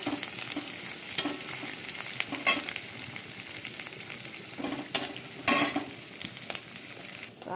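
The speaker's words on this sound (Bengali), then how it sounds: "এই 5 ফোড়ন দিলাম, দিয়ে এটা একটু ভালো করে নাড়তে থাকবো।" Bengali five-spice seeds sizzle and crackle in hot oil while a spoon scrapes and stirs the pan, with occasional sharper clinks against the metal.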